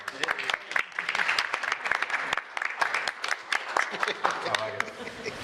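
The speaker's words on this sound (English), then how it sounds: "Yeah, we can clap" Brief round of clapping at a city council meeting, a few sharp, scattered claps from a modest room of attendees, fairly close and uneven.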